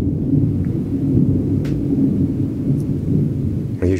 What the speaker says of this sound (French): Et je laisse le tonnerre passer.